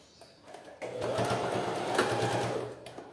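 Sewing machine stitching bias binding onto the outside of a fabric jewellery holder, a rapid mechanical whirring run of about two seconds starting after a brief pause, fairly quiet and close.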